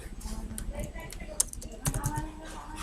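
Typing on a computer keyboard while setting up a network configuration in a terminal, with a few scattered key clicks and taps amid light background noise and a voice speaking nearby.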